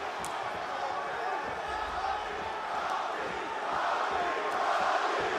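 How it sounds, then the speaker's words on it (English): A UFC arena crowd favoring Robbie Lawler against Covington roars in a broad, continuous wash of cheering that swells slightly near the end, with a commentator's voice faintly mixed in. "No surprise, it is a pro-Lawler crowd tonight."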